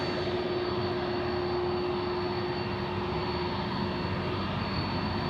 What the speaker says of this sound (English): Just in time for our A330 to come here in front of us, which would be great. It's a Qantas 653 and it's off to Perth.